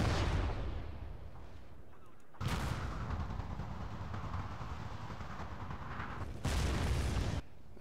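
Artillery shots in Total War: Shogun 2 Fall of the Samurai battle, a heavy cannon boom opening, another loud report a few seconds later and a third near the end, with rumbling battlefield noise between.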